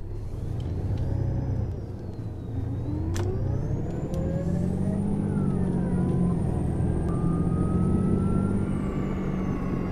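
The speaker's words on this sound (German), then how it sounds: "Ein Gang rein und Bremse lösen." A Mercedes-Benz Citaro city bus pulls away from a stop on route 264 in the Ruhr area: its engine hums low and steady as it accelerates, a rising whine climbs over it, and a couple of sharp pneumatic hisses come early, all close and continuous.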